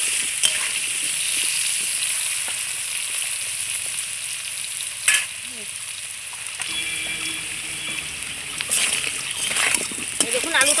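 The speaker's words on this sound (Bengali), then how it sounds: "দেখুন আলুটা কত সুন্দর আমি লাল লাল করে ভেজে নিয়েছি" Potato pieces fry in a pan with turmeric for a cauliflower and potato curry, giving a steady close sizzle and spatter that runs throughout, with a voice talking over it.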